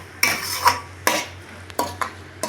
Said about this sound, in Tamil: இது எல்லாத்தையும் நல்லா கலந்து விடலாம்.